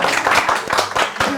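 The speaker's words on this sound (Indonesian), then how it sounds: "Oh, tepuk tangan." Hands clap a few times in quick, uneven bursts, near and fairly loud, against a room with faint voices in the background.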